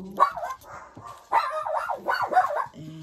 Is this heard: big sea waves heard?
no